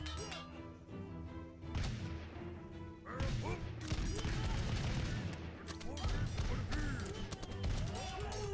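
Musketmen firing volleys in the battle game TABS, a dense fusillade of overlapping gunshots and crashes that keeps going throughout, loud and busy, with talk mixed underneath.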